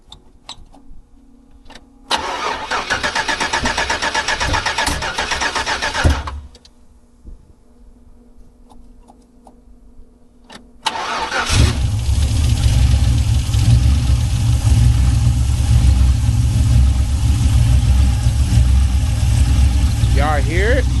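A 1979 Buick Regal, fitted with a 6.0 engine, cranks over for several seconds, falls quiet, then cranks again and catches, settling into a loud steady idle.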